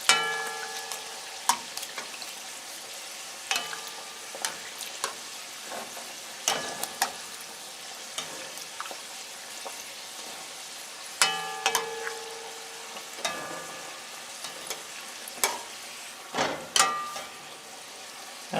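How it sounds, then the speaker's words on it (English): Stuffed bake dough frying in hot oil, a steady close sizzle with scattered clinks and scrapes of a utensil against the pot, no talking. "So now we're starting to fry here."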